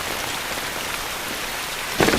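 Steady rain falls in a romantic film scene, a dense, even hiss of drops on surfaces throughout, with a brief louder splash of heavier rain near the end; no one speaks.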